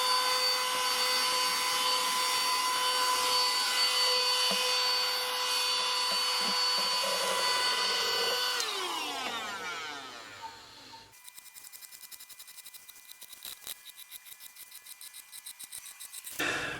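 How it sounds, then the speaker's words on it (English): A vacuum cleaner runs close by with a loud, steady whine that falls in pitch as the motor winds down. Scraping and clicking on guitar frets follow. "Vacuum cleaner."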